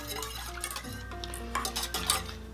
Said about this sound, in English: And we'll whisk that in.